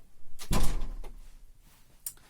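A house door swings shut with one solid thump, followed by a short fading rattle and a faint click a moment later.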